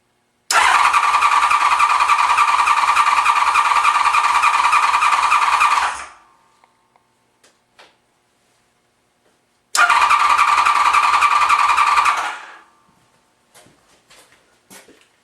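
Honda VFR750 motorcycle engine cranking with the choke on, two long loud bursts of starter whir of about five and two and a half seconds, separated by silence, with small clicks and knocks afterward.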